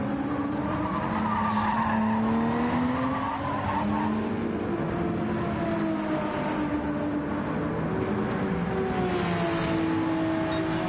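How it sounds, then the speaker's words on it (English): A Porsche 911 RSR flat-six engine in a racing video game at Fuji sings a continuous high revving note that rises and falls through gear changes, loud and steady throughout with tire squeal and no talk. "That Porsche 911 RSR flat 6 sound, just gorgeous, absolutely gorgeous there through the hills of Japan"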